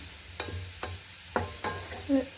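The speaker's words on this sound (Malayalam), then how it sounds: "ഈ സവാള നല്ലോണം മൂക്കട്ടെ ഇവിടെ കിടന്ന്." Onions frying in a pan on a gas stove, with a soft sizzle under four or five distinct scraping stirs of a spoon, spaced about half a second apart, close and fairly quiet.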